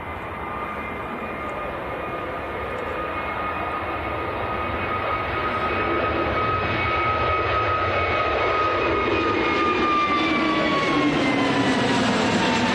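Passenger jet rolling for departure at Manchester Airport, a steady, loud roar with a rising engine whine that builds and swells over the whole stretch, with no voices.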